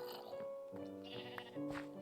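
Sheep bleating in a blocky building game, a few wavering bleats close by over a soft background, with one near the start and another toward the end, no talking.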